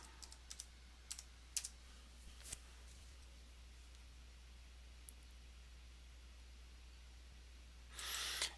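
Typing on a computer keyboard, a few sparse, faint clicks and key taps early on, then near silence, ending in a short burst of soft noise.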